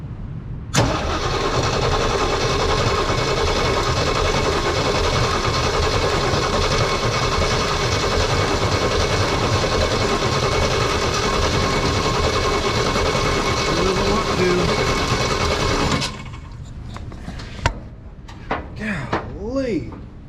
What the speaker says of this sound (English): we should be able to crank a little bit and see if that pump will pull fuel from the gas can